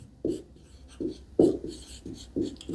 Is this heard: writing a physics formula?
yes